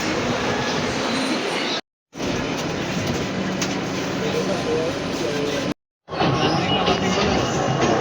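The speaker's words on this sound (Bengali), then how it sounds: "মেট্রো চলে এসছে।" A metro train pulling into Dum Dum station, a loud continuous rumble and rail roar with brief cut gaps, steady and close, while people talk nearby.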